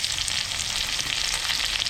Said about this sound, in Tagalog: Saka yung luya. Lagay na rin natin yung sibuyas.